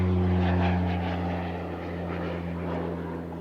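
Military reconnaissance aircraft flying a flat 360-degree turn at Cosford Airshow, a steady droning propeller engine hum with a strong low tone that fades slightly as it banks away, with no one speaking.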